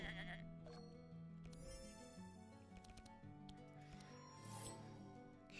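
Sheep in a video game bleat in several wavering, harmonic cries, some overlapping, with light clicking like typing underneath and no talk.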